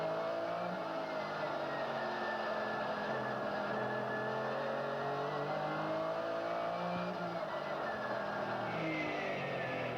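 GT race car engines heard from an onboard camera at Portland International Raceway, a steady loud drone with shifting pitch as the cars slip and slide, continuous and close with no talk.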